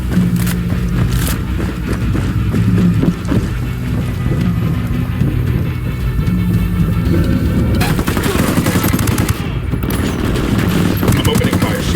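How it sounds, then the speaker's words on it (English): Rapid automatic gunfire rattles loudly and almost without pause in Ghost Recon Wildlands, bursts layered over engine rumble and a heavy boom near the end, with voices speaking underneath. "I'm opening fire."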